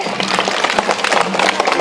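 A group of schoolchildren claps after singing a song, a loud, steady patter of many hands close by.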